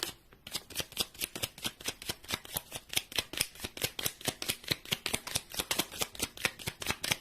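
Tarot cards being shuffled by hand, a fast regular riffle of crisp papery flicks repeating steadily throughout, close and fairly quiet with no talking.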